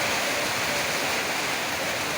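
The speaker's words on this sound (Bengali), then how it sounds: "আমাদের মালদায় প্রচুরভাবে বৃষ্টি।" Heavy rain pours down in Malda, West Bengal, a dense, steady broadband wash of rainfall close by, continuous and unbroken with no voices over it.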